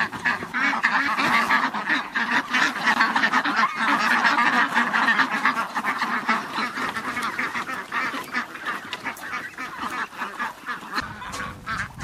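Ducks and geese fed rice bran on a farmyard, a dense, continuous chorus of close quacking and honking that runs the whole time without speech.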